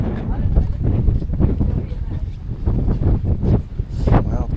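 Strong wind buffeting the microphone at an outdoor city viewing platform on the Pinnacle Walk above Hobart, a steady, close, rumbling gust noise filling the whole stretch.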